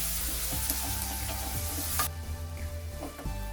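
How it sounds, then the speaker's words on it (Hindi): Spice paste for a coconut fish curry fries and gets stirred in a pan, a steady loud sizzle with scraping stir strokes, close up and continuous. "अभी हम इसमें मसाले का पेस्ट ऐड करेंगे। अभी इसको अच्छे से मिक्स कर लेंगे।"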